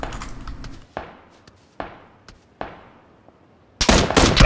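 Gunfire in PUBG: Battlegrounds rings out as several sharp single shots spaced about a second apart, each with a decaying echo, then a loud rapid burst of automatic fire at the end.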